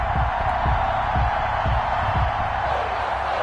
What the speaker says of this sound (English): This crowd is ready as their guys get set to match up between the Miami Dolphins